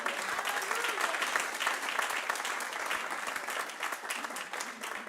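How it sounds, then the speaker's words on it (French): A church congregation breaks into sustained applause, dense and steady clapping filling the whole stretch with a faint murmur of voices underneath. "On peut applaudir Jésus."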